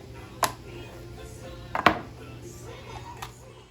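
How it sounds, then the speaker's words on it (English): A knife chops vegetables into tiny diced pieces for a stuffed pepper casserole, with three sharp, widely spaced strikes on a board against a quiet kitchen background. "We're gonna chop these down to very tiny"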